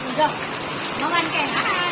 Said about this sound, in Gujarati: રસ્તામાં આવતા હતા ને વરસાદ જોરદાર ચાલુ થઈ ગયો